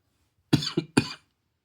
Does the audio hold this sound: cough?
yes